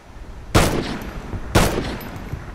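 Two sharp, loud gunshots ring out about a second apart in Call of Duty Ghosts during a search-and-destroy match, each followed by a brief decaying tail, with no voices.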